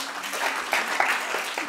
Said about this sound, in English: Thought that would get a round of applause.